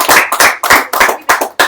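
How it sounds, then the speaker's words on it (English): A few sharp hand claps in quick, uneven bursts, close and loud, like a small group starting to clap for a livestream host. "Give a round of applause to Prakash."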